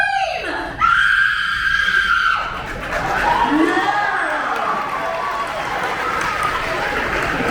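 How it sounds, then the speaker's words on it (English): A woman lets out a long, loud, piercing scream that holds for several seconds, close up, with shifting pitch and no other talk, at a special effects show at Universal Studios Hollywood. "Let's all hear how you would scream!"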